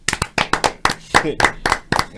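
A studio audience claps to welcome magistrate Víctor Alfonso Ynoa onto a television interview program: loud, distinct, fairly sparse hand claps in uneven bursts, close and clear, with no talking over them.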